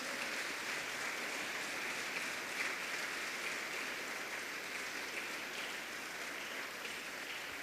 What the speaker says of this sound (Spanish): Dale palmas al Señor si entiendes esto.